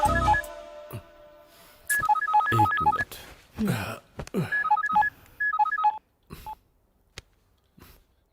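A rapid series of telephone touch-tone keypad beeps in short bursts in a Hindi-dubbed South Indian movie scene, punctuated by clicks and a few faint voice fragments between the tone groups.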